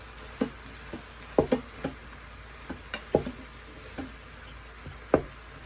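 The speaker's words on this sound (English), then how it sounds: "you're just going to let your mushrooms sweat a little bit" Onions and mushrooms sweating gently in a pan with melting butter give a soft, low hiss punctuated by irregular light taps and stirring clicks, close and quiet with no voices.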